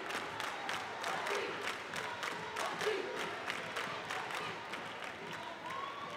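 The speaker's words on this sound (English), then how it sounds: "Crowd really getting into this championship match." Crowd cheering and clapping fills a volleyball arena during a 12 Open championship final at the AAU Nationals, a steady, moderately loud wash of voices and applause with no clear talk over it.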